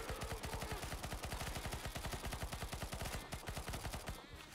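Rapid automatic gunfire in a video game zombie fight, a dense, fast, even stream of loud shots running almost the whole time, close and alone.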